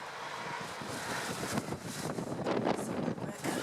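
Gusty wind buffets close against the microphone outdoors near a château, the rumble swelling and dipping over a few seconds with no clear speech.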